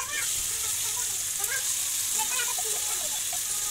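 Steady sizzle of onions hitting hot oil with roasting cumin, cinnamon and green cardamom for a white korma gravy, a continuous close crackling hiss throughout with a few faint scattered pops.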